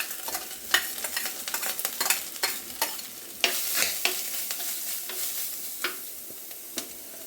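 Ground coconut paste is stirred in a hot frying pan in a home kitchen. A spoon scrapes and clatters steadily against the pan over a continuous soft sizzle, close and moderately quiet with no speech.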